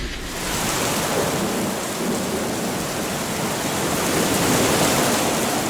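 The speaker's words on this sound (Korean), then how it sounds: "파도 소리만 무섭게 울부짖고 있습니다" Typhoon-driven sea surf pounding a harbor breakwater, a loud, continuous roaring wash of spray and water with no break, close and heavy, no voices.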